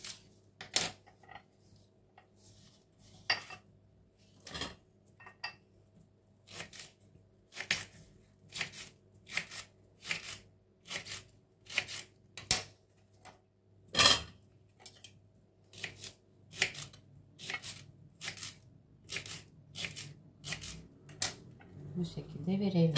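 Repeated sharp knife chops slicing leeks on a cutting board, quick taps in an uneven rhythm, close up and fairly quiet, with a short pause midway.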